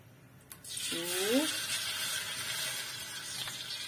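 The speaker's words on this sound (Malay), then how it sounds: "Okey kawan-kawan, kita mula menggoreng." Kuih kasturi dropped into hot oil for frying, bursting into a loud, close, steady sizzle that holds after a brief clunk, with a short voice at the start.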